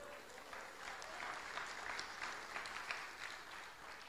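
A church congregation applauds together in a sustained, moderately loud burst of clapping that stays steady for several seconds, filling the room without any voices.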